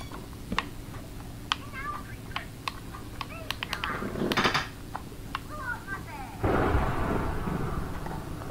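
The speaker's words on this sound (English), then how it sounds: "of course it would be thunder, but I'm like, why can I hear it?" Thunder rumbles in the Minecraft video game, a low roll that swells briefly and then returns louder near the end, mixed with light in-game ticking.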